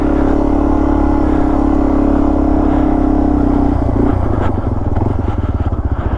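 A Yamaha TW200 motorcycle engine revs loudly and close by with a steady throbbing drone, then breaks into a rougher, pulsing rhythm as the throttle is worked near the end.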